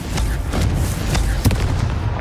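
A Confringo blasting spell in Hogwarts Legacy goes off as a series of loud booming impacts, with a sharp crack near the middle over a dense rumbling game background and no talking.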